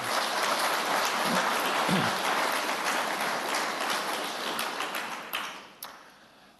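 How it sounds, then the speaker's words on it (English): Mourners at a funeral service applaud in a dense, steady burst of clapping that fills the room, then thins and fades toward the end. "another big round of applause for Kaylee."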